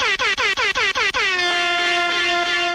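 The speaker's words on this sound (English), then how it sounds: "I'm going to play the air horns because that's special." A loud air horn blasts six quick stuttering bursts, then one long sustained honk that holds to the end.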